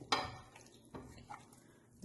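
Chicken pieces being mixed with cornflour and salt in a bowl give a few soft clinks and scrapes, spaced irregularly and quiet, close by in a home kitchen.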